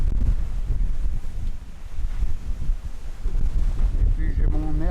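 Strong wind buffets the microphone aboard a sailboat under full mainsail and genoa, crossing from Tanzania to Kenya, a loud rumbling gusty roar that dips briefly and swells again, with a voice briefly heard near the end.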